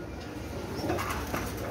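Golailal pigeon of a Pakistani breed cooing softly, with low throaty coos half-buried under a steady noisy background in a pigeon loft.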